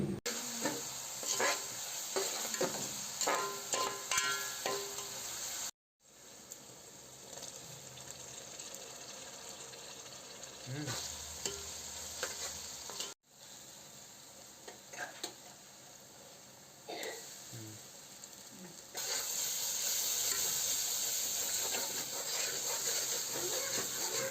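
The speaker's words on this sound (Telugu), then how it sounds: "వేసుకున్న ఆయిల్ వేడెక్కిన తర్వాత చిన్నగా తరిగి ఉంచుకున్న ఆనియన్స్ వేసుకొని కొద్దిగా వేగిన తర్వాత తరిగి పెట్టుకున్న పచ్చిమిర్చి కరివేపాకు వేసుకోవాలి దోరగా వేగించుకోవాలి" Chopped onions, green chilies and curry leaves frying in hot oil in a pan, a steady close hiss and crackle with occasional stirring scrapes, continuing through two brief cuts and growing louder near the end.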